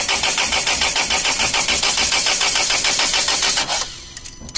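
Land Rover engine cranking with a rapid, steady rhythmic churn, loud and close, for several seconds before it cuts off abruptly, leaving a brief quiet tail.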